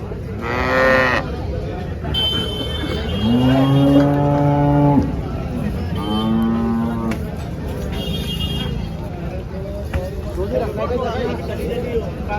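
Several HF and Jersey cows moo loudly at the Chalisgaon cattle market, long drawn-out calls overlapping, amid a busy crowd murmur and traders talking nearby.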